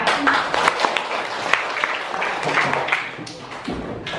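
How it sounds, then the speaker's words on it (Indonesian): Students clapping hands in a school classroom, a dense, fairly close patter of many small claps running steadily before fading toward the end. "masih tepuk tangannya."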